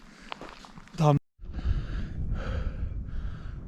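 Heavy, labored breaths from a person after hiking a steep slope up to Alamut Castle, close to the microphone, with a sharp gasp, a short silence, then repeated loud exhalations over footsteps.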